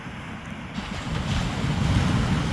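Gentle waves wash steadily on a calm sea under a cloudy sky at sunrise, a soft continuous surf with wind rumbling against the microphone, no voices.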